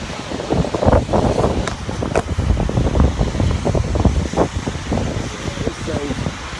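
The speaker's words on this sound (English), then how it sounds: "the wind has turned my umbrella wrong side out" Strong gusts buffet an umbrella outdoors, blowing it inside out: loud, continuous rushing wind noise with heavy rumble and flapping, while someone talks over it.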